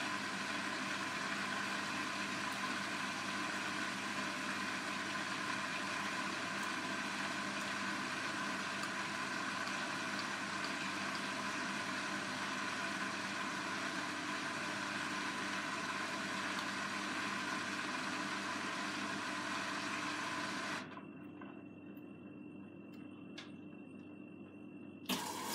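Steady, even hum of a Blomberg washing machine on its second rinse cycle with soft blankets and toys, droning continuously before dropping to a quieter level near the end, with a brief clunk at the very end.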